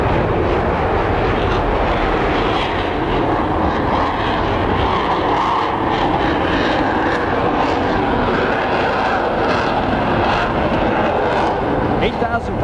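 A Marine Corps support aircraft takes off with jet-assisted JATO rockets at an air show, giving a loud, continuous roar of engines and thrust that holds for the whole stretch. Wind buffets the microphone.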